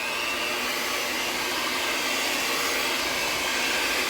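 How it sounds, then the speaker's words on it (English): Sweet potato pie filling whirs in a blender, a loud, steady motor roar that holds unchanged for the whole stretch with no voices. "And so then I want to blend that up"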